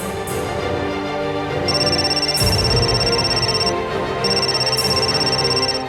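A phone rings on an outgoing call in a Bengali TV drama, with two loud repeating electronic ring bursts separated by a short pause and no talk.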